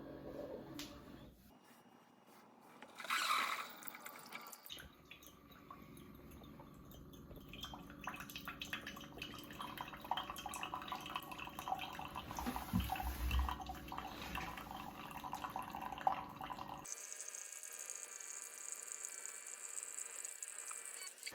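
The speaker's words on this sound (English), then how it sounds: "I'm gonna go ahead, select 8 ounces, and brew." A single-serve coffee maker brews an 8-ounce cup through a reusable Savepod, with a quiet mechanical whir and pump clicks, then a steady soft trickle of liquid running into the cup, all faint and close.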